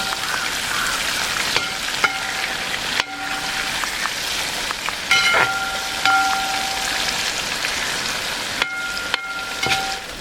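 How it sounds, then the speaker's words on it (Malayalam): Chunks of tuna sizzle and crackle steadily in hot oil in a pan, cooked for a spicy fish pickle, with a few faint metallic scrapes and stirring knocks over a dense, continuous frying hiss. "നമ്മൾ ആദ്യം ഇട്ട ചൂരമീൻ ഫ്രൈ ആയി കിട്ടിയിട്ടുണ്ട് കേട്ടോ"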